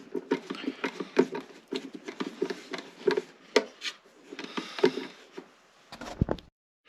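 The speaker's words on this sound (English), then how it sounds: "Get these 4 screws driven in, and then we're ready to glue in the nut." Screws going into the wooden body of a handmade cigar box guitar with a screwdriver, a quiet series of short rasping, creaking turns in bursts, close by, ending in a brief pause.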